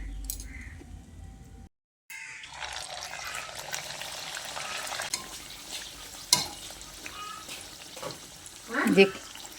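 Hing kachuri deep-frying in hot oil gives a soft, steady sizzle with light bubbling, broken by a brief silence, occasional utensil clinks and a louder scrape near the end.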